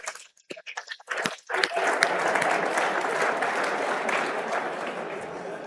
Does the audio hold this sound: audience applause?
yes